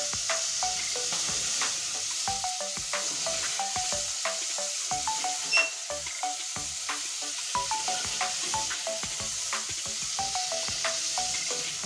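Bam eel fish frying in hot oil, a steady close sizzle and crackle with scattered pops and light stirring clicks, continuing without talk.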